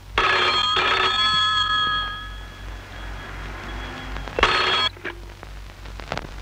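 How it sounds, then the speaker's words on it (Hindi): A telephone rings in a Hindi film comedy. Two bursts of bright electronic ringing come close together, then a pause, then a third ring and a few faint clicks. "आपका फोन है"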